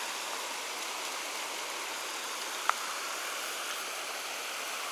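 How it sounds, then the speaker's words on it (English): Waterfall along a hiking trail, heard as a steady, even broadband rush of falling water, continuous and moderately distant, with one brief sharp click partway through and no voices. "there's waterfalls all up and down it"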